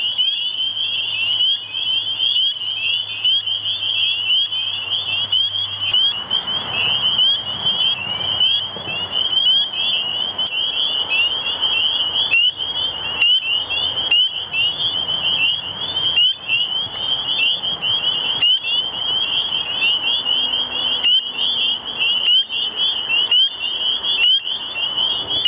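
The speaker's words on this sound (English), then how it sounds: "There's a spring peeper right there." A spring peeper frog calls from reeds and cattails, its high piercing peeps repeated rapidly and continuously at close range and very loud, with no voices.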